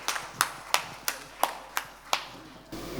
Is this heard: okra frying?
no